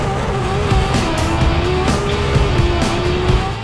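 A BMW drift car at Formula Drift Seattle slides through the opening chicane, its engine wailing loud and steady with rising and falling pitch while tires squeal and skid in bursts throughout.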